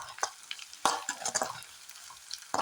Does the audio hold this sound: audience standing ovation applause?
no